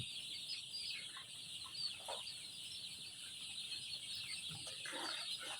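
Twenty-day-old Sonali chickens that have been sick for a few days cluck faintly in a farm pen, giving scattered soft calls over a steady high-pitched background hiss.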